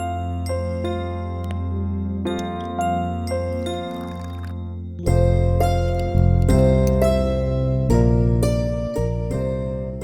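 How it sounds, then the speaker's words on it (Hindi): A prayer bell rings steadily during morning worship, with repeated bright metallic strikes and long shimmering rings that grow louder and denser midway, close and alone. "रोज सुबह घंटी की आवाज और इसकी बड़बड़ सुननी पड़ती है मुझे"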